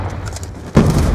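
In a Call of Duty Team Deathmatch on Nuketown 2025, a concussion grenade goes off with a sudden heavy thump partway through, following a quieter stretch of distant battle noise.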